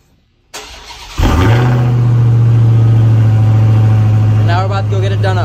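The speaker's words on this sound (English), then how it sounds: "a little cold start with a stock exhaust" A Hellcat V8 cold start through the stock exhaust: the starter whirs briefly, then the engine catches with a loud bark and settles into a deep, steady, rumbling idle close by, with a slight rev change near the end.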